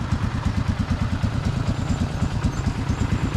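A Polaris 500cc 4x4 ATV engine runs steadily at a low idle, close by, with an even rhythmic chug and a slight clatter throughout, with no talking.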